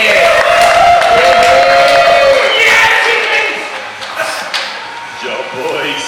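Crowd cheering and whooping at an outdoor RC drift tandem competition, loud and sustained with overlapping voices and shouts, gradually thinning toward the end.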